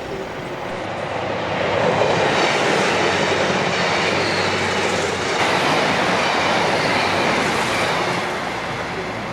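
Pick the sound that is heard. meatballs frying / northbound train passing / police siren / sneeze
northbound train passing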